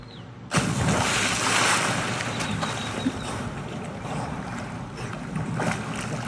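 A person plunges into a backyard swimming pool with a sudden loud splash, followed by churning, sloshing water and gusty noise that slowly settles.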